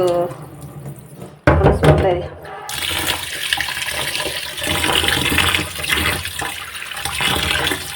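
Rice is washed under running water, with close, loud splashing and tap flow that swells after a sharp onset, while a person talks over much of it.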